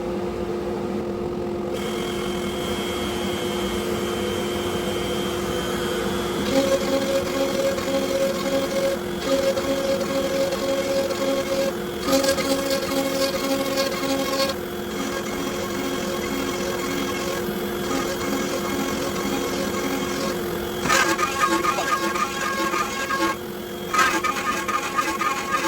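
A CNC router on a Onefinity Elite Foreman cuts the body of a tool setter mount, giving a steady machine drone with tonal whine that shifts in stages as the cutting passes change, loud and without talk.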